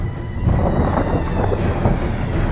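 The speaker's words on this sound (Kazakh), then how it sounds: "ол жай ғана жаңбыр емес, найзағай болатын сияқты" Thunder rumbles in an animated cartoon as a storm rolls in, a dense continuous low roar that swells slightly without distinct cracks.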